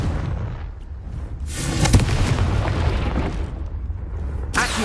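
Explosive bursts from the Confringo spell in the Hogwarts Legacy video game, loud booming blasts with crackling tails, one stronger hit in the middle and another burst at the end.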